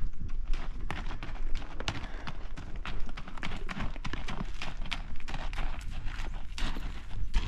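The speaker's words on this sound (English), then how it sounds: "And here she comes on Nugget." Hooves clip-clop in a steady walking rhythm on a hard trail, close by, with crunching footfalls and light background noise.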